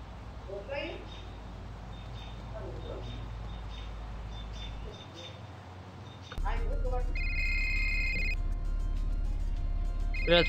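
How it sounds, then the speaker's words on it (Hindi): An incoming mission call rings on a phone in the Rope Hero: Vice Town game, a steady electronic ringtone that starts partway through and holds loudly over ambient game noise and faint chirps. "यहाँ पे कॉल भी आ रहा है मिशन के लिए"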